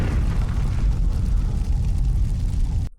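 A bomb explodes in a scene from The Walking Dead, a loud, deep, rumbling blast that roars continuously for about three seconds before cutting off abruptly.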